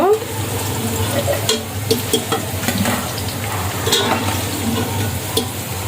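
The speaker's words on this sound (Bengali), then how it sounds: "সেই আলুটা এখানে ফ্রাই করে নিব" Half-boiled potatoes fry steadily in hot oil for biryani, a continuous close sizzle broken by occasional clinks and stirring scrapes of a spatula, with no talk.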